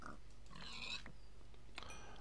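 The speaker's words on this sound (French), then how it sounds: "Le cochon, bah, désolé, je te bute." A Minecraft pig gives a couple of short nasal oinks, faint against a low steady background hum.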